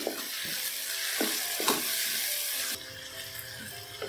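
Ginger garlic paste and chopped tomatoes frying in a pan for chana dal, with a continuous hissing sizzle broken by a few spoon scrapes and knocks as they are stirred.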